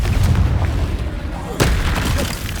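A Confringo blasting spell explodes in the Hogwarts Legacy video game, a deep booming blast with rumbling low end and a sharp burst near the middle, heard amid ongoing battle noise.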